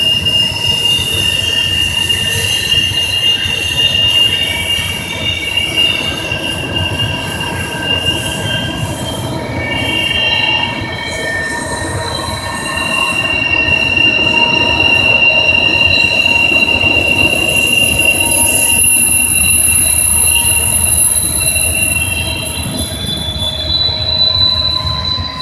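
A long westbound intermodal freight train rolls past around a curve, its wheels squealing in high sustained tones over a steady rumble of rail cars, loud and continuous.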